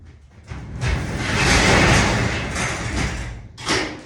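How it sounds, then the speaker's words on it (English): A door is pulled shut in a dim garage-style room with a long rolling, sliding rumble that swells and eases over a few seconds, then a firmer thud near the end. "close this door,"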